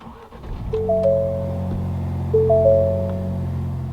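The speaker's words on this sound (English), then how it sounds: "keeping my foot on the clutch, we can go ahead and fire it up" A 2021 Ford Bronco Big Bend with a six-speed manual rumbles to life and settles into a steady idle, with several chiming warning tones sounding over it.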